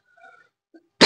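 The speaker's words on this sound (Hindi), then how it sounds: "सॉरी दोस्तों, खांसी आने की वजह से आपको डिस्टरबेंस हो रही होगी।" A single sharp, loud cough bursts out at the end of a quiet pause during a Hindi geography lecture, preceded only by faint murmuring.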